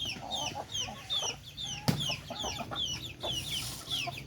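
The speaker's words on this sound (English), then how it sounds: "The chickens are going crazy." Several chickens cluck busily and overlapping, with sharp, repeated calls close by and a brief knock partway through.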